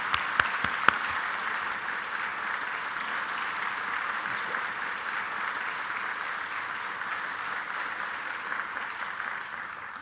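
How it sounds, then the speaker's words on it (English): Audience applause during a mayor's State of the City address in Milwaukee: a few sharp claps open into steady, moderately distant clapping from a large hall crowd that holds evenly throughout. "Let's give these individuals and companies an enthusiastic Milwaukee round of applause."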